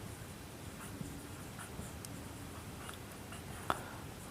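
A pen scratches across paper while someone writes out a geometry answer, soft and continuous with faint ticks and one sharper tap, close and quiet.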